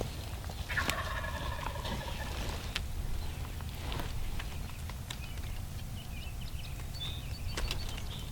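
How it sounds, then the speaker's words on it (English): Wild turkeys gobble repeatedly outdoors in the morning at a field edge by timber, calls rising from moderately distant birds, one nearly overhead, over a steady rustling background. "This turkey's almost right above me here. I hear them gobbling like crazy."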